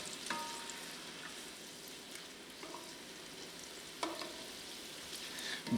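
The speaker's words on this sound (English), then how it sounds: "I'm going to let this boil for just a moment" Wine reducing in a pan to cook off the alcohol for chicken with garlic, a quiet steady sizzle with a few soft clinks of a utensil.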